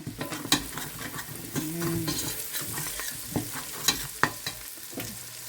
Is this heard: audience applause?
no